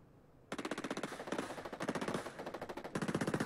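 Rapid automatic gunfire in a multiplayer shooter match with SWAT units, loud bursts of rhythmic shots with brief pauses between them, close and dominant.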